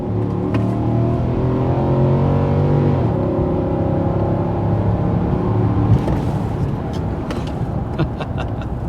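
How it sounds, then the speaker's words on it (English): A 2019 Nissan Titan PRO-4X V8 pickup engine revs in a steady, loud, close rumble whose pitch climbs and holds, drops back around the middle, then settles into a rougher idle with a few sharp knocks. "as far as power goes, that V8 is really nice"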